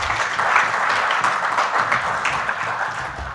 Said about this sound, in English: A hand clap to welcome our panelists.